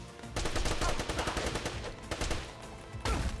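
Rapid bursts of automatic gunfire from the video game Wanted: Dead rattle in dense overlapping volleys, loud and continuous with a short pause before a final burst.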